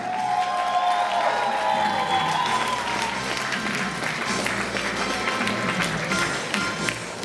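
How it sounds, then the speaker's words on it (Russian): Audience applause at an awards ceremony, a steady wash of clapping hands that holds for several seconds, with a brief tonal sound and a voice early on. "Под ваши бурные аплодисменты!"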